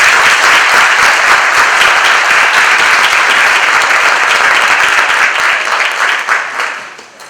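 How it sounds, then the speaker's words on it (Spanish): Loud, close applause from a conference audience at a mental health congress welcomes a speaker, holding strong and steady before fading out over the last second or two. "Les pido un fuerte aplauso para el doctor Tamayo"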